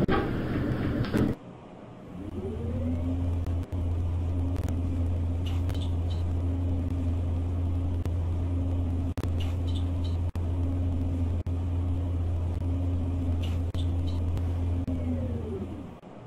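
Shopping centre lift going down after its doors close: a brief clunk, then a steady low motor hum and rumble that holds evenly for over ten seconds with faint clicks, winding down at the end; no talk.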